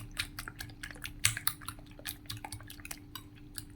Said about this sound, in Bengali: ডিম দুটো আর পেঁয়াজ, কাঁচামরিচ, ধনেপাতা আমি সবগুলো এখন মিক্সড করে নিব সুন্দর করে